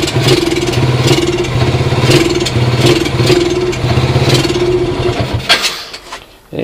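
A Yamaha Champ scooter engine runs close by as it burns off the last of its fuel, a steady mid-pitched putter with uneven surges that sputters and fades into silence near the end.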